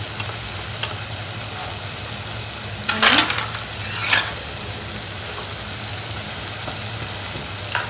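Tomato and spice masala, turmeric and Malvani masala among them, frying in a pan for a wild vine leaf vegetable dish, with a steady sizzle underneath and a couple of brief scraping stirs, no talking.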